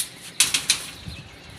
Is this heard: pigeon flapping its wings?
yes